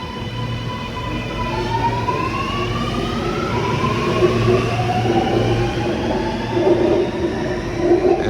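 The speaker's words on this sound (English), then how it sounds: "that tells you that the doors will be closing and the train will be taking off" A Sydney metro train pulls away from a station as its doors close, its electric motors whining and rising steadily in pitch over a constant rumble of the cars.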